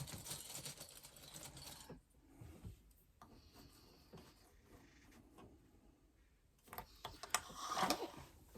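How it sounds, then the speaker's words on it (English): Quiet sewing machine runs stitching straight across the top edge of a lining panel, in short bursts separated by gaps, with faint handling clatter and a louder burst near the end. "we're going to stitch right the way across the top edge"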